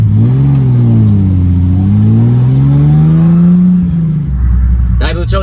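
Datsun 240Z S30 engine, a late-1960s/70s Japanese sports car, sounding near and loud with a rising and falling drone that fades after a few seconds into lower idle rumble, followed by brief speech.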